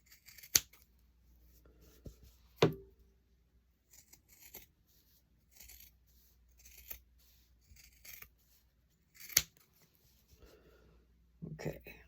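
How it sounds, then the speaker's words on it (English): Scissors snip through the fabric edges of sewn coasters in a few short, sharp cuts spaced across a quiet room, each one brief and close, with faint handling noise between them. "so we cut off our 4 edges"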